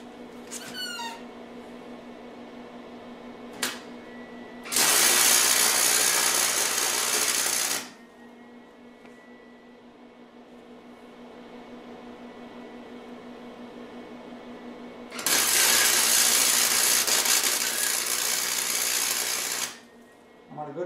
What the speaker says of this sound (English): I want a good hot weld, a good deep weld.